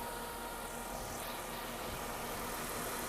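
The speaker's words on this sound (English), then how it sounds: "it's running with the new timing chain installed" A Mercedes-Benz E320 with the M112 engine idling on a fresh timing chain, a steady, even mid-pitched hum with faint vibration, close and constant throughout with no talking.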